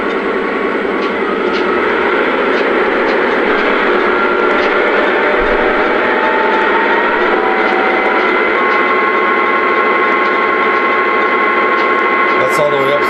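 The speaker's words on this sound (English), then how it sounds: "Here's some of the RPM levels." A Lionel Santa Fe Dash-8 model locomotive's diesel engine sound rises slowly in pitch and intensity as it revs up, holding a steady droning hum near the end.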